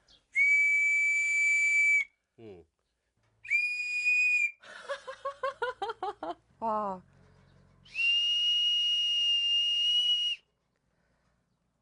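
Shrill, piercing blasts from a small wooden whistle sound close by, three long steady tones, with a fluttering warbled burst in the middle and a brief exclamation.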